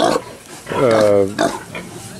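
A pig on a farm gives a short, close grunting squeal in the middle of a brief moment, with faint snorts before and after.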